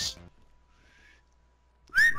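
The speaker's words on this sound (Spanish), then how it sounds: "¡Escuchen los silbidos!" In Call of Duty Prop Hunt, a short, faint rising whistle is heard in a brief quiet gap, with louder bursts of sound just before and after it.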